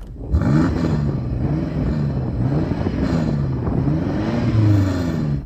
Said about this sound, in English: Go on, rev up yours, Jan.